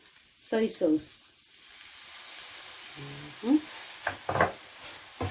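Soy sauce hits egg fried rice in a hot pan, giving a continuous soft sizzle beneath bursts of a nearby voice and a few clattering stirs.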